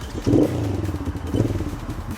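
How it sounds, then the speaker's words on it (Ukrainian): A small 125cc ATV engine sputters to life and keeps running with a rough, pulsing idle, fairly close. "Працює квадроцикл"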